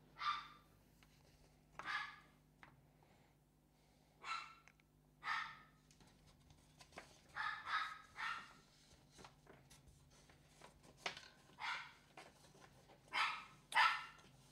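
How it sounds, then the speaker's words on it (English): A female dog barks repeatedly indoors at a workbench during an RC airplane build, short sharp barks in irregular bursts, moderately distant and fairly quiet over a low steady hum, with no talking. "My dog is barking, and I have no bloody idea why."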